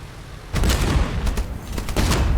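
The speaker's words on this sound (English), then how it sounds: "the tier 2 cannons have a lot more splash damage as well" Tier 2 ship cannons fire in a naval battle in the game Age of Water, a loud rapid volley of booming shots layered over constant rumbling background noise.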